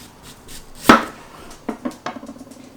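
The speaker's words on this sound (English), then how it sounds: "we're just going to slice horizontally, and we're going to do about 1/2 inch thick" A knife cuts through an onion on a cutting board, slicing it into half-inch rings: one loud, sharp crunching chop followed by several lighter, quick slices close by.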